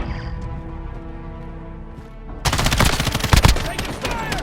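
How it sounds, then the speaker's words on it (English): Rapid automatic gunfire from the video game Call of Duty Modern Warfare erupts loudly midway through, a dense burst of shots following a quieter stretch of in-game ambience. "Taking fire!"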